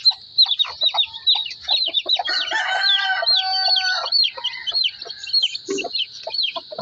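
Small chicks peeping at a rural countryside home, with a steady stream of high, rapid chirps layered over clucking hens nearby, continuous and fairly close with no talking.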